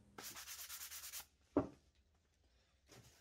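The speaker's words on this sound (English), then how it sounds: "Go back over it with some 220 grit sandpaper so it's nice and smooth and ready to stain." Sanding wood by hand with 220 grit sandpaper while smoothing the cut edges of a nightstand base before staining, a close rhythmic series of rasping strokes for about a second, then a sharp knock and a short final rub.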